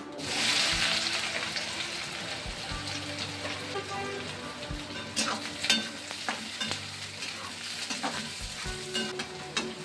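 Cumin seeds and onion fry in hot oil in a pan while making a spinach and moong dal dish, with a steady close sizzle, scattered pops and the scrape of stirring throughout.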